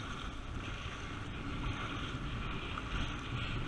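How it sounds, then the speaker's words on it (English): Steady, roaring wind buffets the microphone over rushing water while out kayak fishing, a constant broadband rumble with no voices. "It is super windy."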